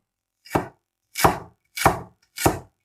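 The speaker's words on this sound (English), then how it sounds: "Here you just need to cut it into slices like this and then into strips." A knife slices ginger into strips on a board with four crisp, evenly spaced chops, each a short, close, fairly loud thud, separated by near silence.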